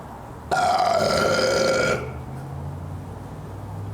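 A person lets out one long, loud, croaking burp lasting about a second and a half, alone against a faint room hum.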